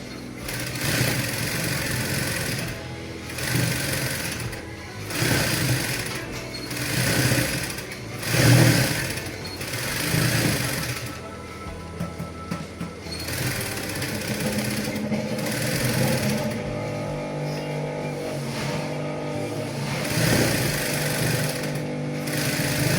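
A domestic sewing machine runs in repeated short bursts, stitching shirring thread into skirt fabric, its steady mechanical whir rising and stopping in uneven rhythm, close and alone.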